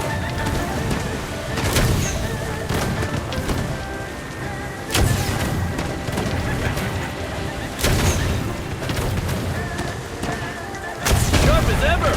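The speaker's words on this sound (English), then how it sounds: "They even brought out the fire cannons!" Fire cannons in the game Where Winds Meet, booming repeatedly at irregular intervals as several loud deep blasts over a continuous roaring wash of battle noise.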